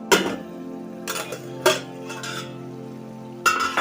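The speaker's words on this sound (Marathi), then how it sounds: "त्याच्यावरती आपण झाकण ठेवणार आहे झाकण ठेवून आपण बारीक गॅसवर ठेवणार आहे" A metal lid set down on a pan of simmering egg-paneer curry: a few sharp clanks and clinks spaced over a few seconds, close by, over a soft background hiss.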